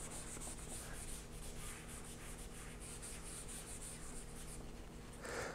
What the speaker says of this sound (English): So I'm just going to erase a lot of some of this.